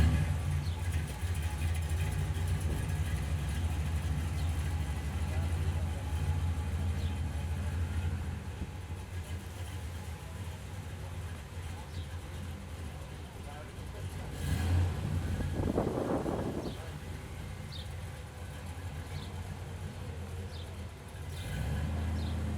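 A 1968 Chevrolet Corvette engine runs steadily on the road as the car drives around the block, a low continuous rumble with a brief swell of revving midway and people talking over it.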